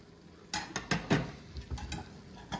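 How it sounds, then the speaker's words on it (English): A spoon scraping and clinking against a pot while chili ingredients are stirred, a handful of irregular clanks and taps in a quiet kitchen. "I'm gonna give this a good stir."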